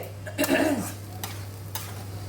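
A spoon stirs khichuri ingredients as they fry together in a pan, making soft scraping strokes over a steady low sizzle, with a constant low hum underneath.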